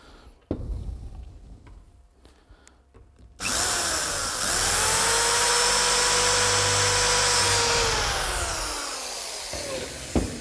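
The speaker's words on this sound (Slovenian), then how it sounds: "Zdaj bova zvrtala luknjo." A power drill bores a hole in metal, whirring loudly and steadily for about seven seconds before winding down, after quieter handling noises at the start.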